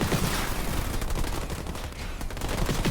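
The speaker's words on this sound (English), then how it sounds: "Receiving fire from ground troops." Rapid bursts of gunfire from ground troops in a strategy video game, a dense crackling barrage that runs loud and steady through the whole stretch with no talking over it.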